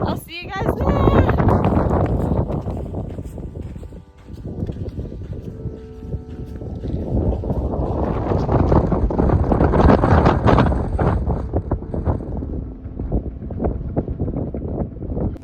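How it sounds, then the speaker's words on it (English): Strong wind roars across an exposed volcanic mountain pass, a loud, heavy buffeting rumble against the microphone that surges and eases, with a brief lull partway through, while a person talks over it. "winds too strong to move without digging in your hiking poles and still sliding in place"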